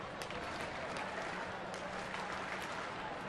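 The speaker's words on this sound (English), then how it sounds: "the crowd begins its rhythmic applause, trying to urge on Veras to retire Sapelt and end this 8th inning" A baseball stadium crowd applauds during a late inning, a dense, steady wash of clapping from many people that fills the whole moment.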